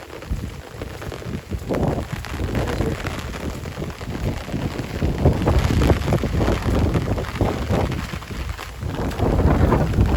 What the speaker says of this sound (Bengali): প্রচুর বাতাস এই বাতাসে